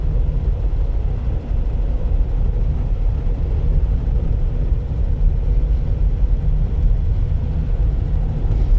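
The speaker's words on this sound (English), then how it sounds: "the engine's probably running okay" A 1952 Rover P4 75 driving along a crater road, its engine a steady low rumble under continuous road and cabin noise, heard from inside the car without pause.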